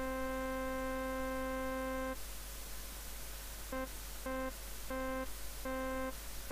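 A zynAddSubFX synthesizer in LMMS holds a steady harmonic-rich tone, then falls to a thin sustained pitch over noisy hiss and hum before short repeated bursts of the full tone pulse back in.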